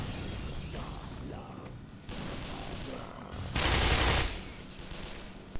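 A Glock pistol fires in a first-person shooter, a fast run of loud, sharp shots in clusters with one especially heavy burst of fire near the middle, set against ongoing game noise.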